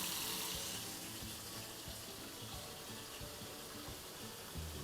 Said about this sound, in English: Running water here at the top, seeing if there's anything leaking.